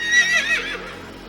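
A horse in a cartoon lets out a short, bright, wavering whinny, loud and close, fading quickly with faint hoof sounds beneath.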